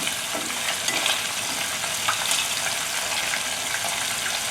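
Shrimp for honey walnut shrimp fry until crispy in hot oil, giving a dense, continuous, loud crackling sizzle that stays even throughout, close by with no voice.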